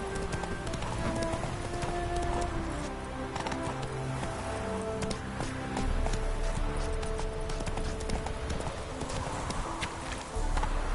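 Horse hooves clip-clop steadily at a brisk trot across the ground in The Witcher 3 video game, close and continuous, with game music and ambience beneath.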